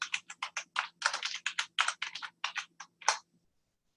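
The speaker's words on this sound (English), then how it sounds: "Let me type here." Rapid, fairly close typing on a computer keyboard, a quick run of crisp key clicks in uneven bursts before stopping.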